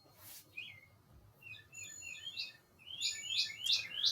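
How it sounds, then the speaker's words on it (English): Small birds chirping outdoors on a mild, cloudy day, several short high tweets and trills at a moderate distance, growing busier toward the end with no talking. "Birds are chirping."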